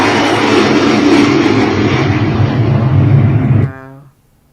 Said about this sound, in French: Oh, check les avions.